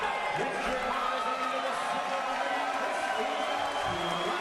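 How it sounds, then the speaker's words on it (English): A spirited crowd at a boxing match before the twelfth and final round fills the arena with a dense, steady roar of clapping and cheering voices. "Spirited crowd giving these two men a nice hand."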